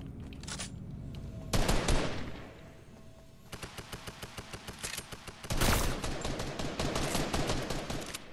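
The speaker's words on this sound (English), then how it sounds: "Oh, they're shooting guys up there, it looks like." Gunfire crackles through a Fortnite John Wick mode match: several loud single shots, then a long run of rapid, evenly spaced automatic fire, with more heavy bursts near the end.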